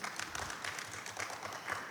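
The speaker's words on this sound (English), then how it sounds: "Yes, that deserves a round of applause." Applause rises from attendees at a school board meeting, a faint, distant spread of clapping with a loose rhythm, quiet throughout and with no voices heard.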